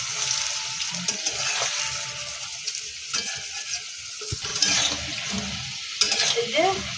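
Small cabbage pakoras sizzle and crackle steadily in hot oil, with occasional stirring scrapes of a utensil in the pan, close and continuous with no talk.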